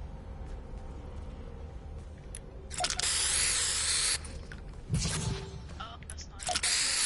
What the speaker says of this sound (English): We have to spray paint something on the wall.